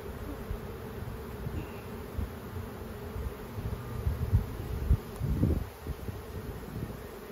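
Honeybees swarming an opened beehive during frame swapping, a continuous low buzz nearby with the wings droning steadily, rising and swelling briefly midway, and faint rustling and breezy outdoor noise.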